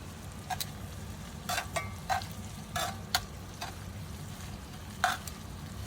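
Garlic prawns sizzle softly in a HexClad pan under a low frying hiss, broken by several sharp clicks and taps as they are flipped.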